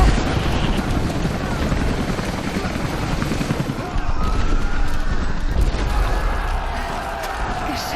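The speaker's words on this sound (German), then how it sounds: "Die Helikopter müssten bald da sein." Helicopter rotors drone steadily through a loud, dense game soundscape in Rise of the Tomb Raider, thick with low rumble and crashing action, the aircraft arriving amid the chaos.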